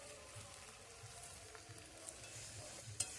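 Jackfruit and prawns stir-fry in a pan over low heat, a soft, continuous sizzle with faint stirring scrapes and a small clink near the end.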